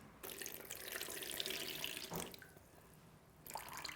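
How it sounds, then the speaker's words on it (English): Water drains off soaked dates in a steady splashing pour lasting a couple of seconds, briefly pausing, then resuming close by with no talk. "So now you drain the water,"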